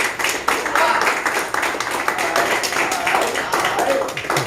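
People at a real estate mix-and-mingle meetup clap together in a dense, lively burst that continues throughout, with voices mixed in.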